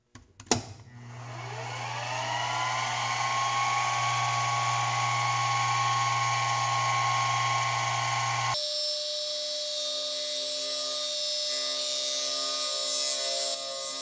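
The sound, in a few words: machining a 3D printed stainless steel part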